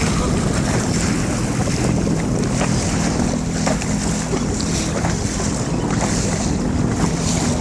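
A jet ski idles on open water, its steady low engine drone running continuously beneath heavy wind buffeting the microphone and the wash of water.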